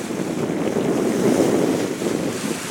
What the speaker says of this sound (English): we just got out the pass from Papeete, and we are sailing just with our large jib